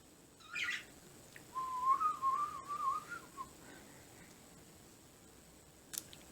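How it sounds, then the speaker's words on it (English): A person whistles a short, wavering tune lasting about two seconds, fairly close and on their own with no talking, followed by a quieter stretch and one brief click. "I cannot whistle very well."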